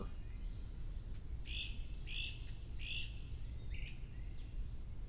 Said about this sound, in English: that bird is loud.